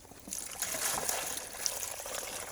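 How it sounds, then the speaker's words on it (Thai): Water poured from a bucket for ducks and chickens, a soft, faint trickling splash lasting a couple of seconds. "มาเทน้ำให้มัน"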